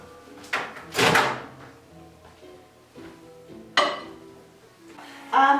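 Several separate clunks and clicks of a microwave oven door opening and shutting, with quiet pauses between them, recorded close by.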